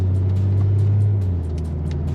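Cabin of a BMW M340i G20 on a test drive, a steady low engine drone and road rumble heard from inside, fairly loud and even, easing slightly toward the end.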